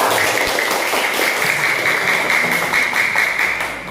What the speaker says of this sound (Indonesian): Ya, kita kasih tepuk tangan.